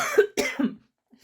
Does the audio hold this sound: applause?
no